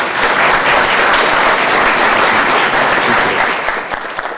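Loud, full applause from a large audience welcoming a speaker at an institute event, a thick, even wash of clapping that holds steady and eases slightly at the end.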